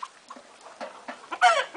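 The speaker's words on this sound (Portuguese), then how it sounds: "ver as galinhas" Chickens cluck close by in a farmyard, a run of short irregular clucks that ends in a louder, squawking burst.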